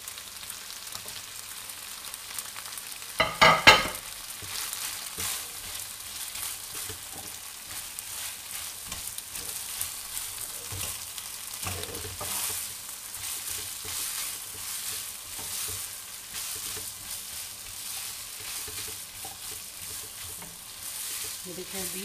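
Carrots and beef stir-frying for beef chilli in a hot pan, a steady sizzle with a burst of stirring clatter early on, continuing evenly without speech.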